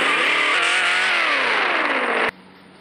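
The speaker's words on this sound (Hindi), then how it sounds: "इंजन स्टार्ट कर लेना है।" Car engine in a European car driving mobile game, revving steadily loud with rising and falling pitch before cutting off abruptly near the end, leaving quiet background.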